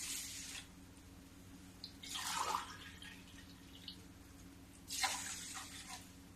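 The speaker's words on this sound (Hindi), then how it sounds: "देखो 2 गिलास चीनी और 2 गिलास में पानी डाल दी हूँ।" Water poured from glasses into a pan of sugar on an unlit stove, two short splashing pours separated by quiet, close and faint over a low steady hum, with no talking.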